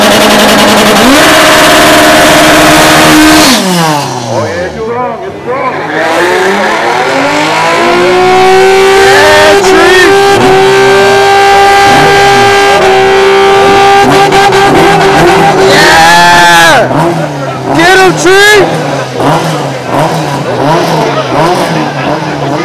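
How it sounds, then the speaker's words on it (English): A Nissan 350Z does a tire burnout at an Import Face Off car show. The engine revs hard, drops, then climbs again and holds a loud screaming note as the tires squeal. Crowd noise and voices sit underneath. "about to smoke these tires"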